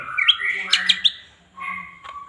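A green leafbird (cucak ijo) in breeding condition sings a bright, varied run of whistled and chirping phrases, close and fairly loud, with brief pauses between bursts.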